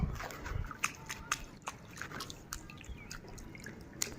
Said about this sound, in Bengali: ছাদে অনেক বৃষ্টির পানি জমেছিল, এটাতে পা ভিজাচ্ছিলাম।